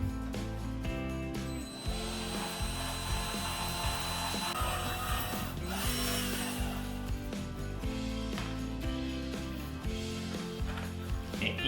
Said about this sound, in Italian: trapanino con una punta per legno e facciamo il foro.